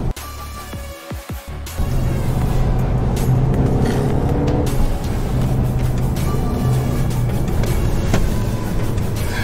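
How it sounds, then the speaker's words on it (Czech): A Mercedes-AMG car launches from a standstill using launch control on a narrow go-kart track. After a brief lull, the engine surges into a loud, sustained roar that stays close and continues steadily as the car pulls away. "rozjedeme si teďka pomocí launch kontrolu"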